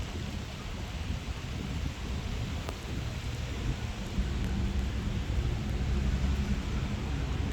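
Steady rain falls on a rooftop vegetable garden where watermelons are grown, a dense, even hiss that runs without a break and grows slightly louder toward the end.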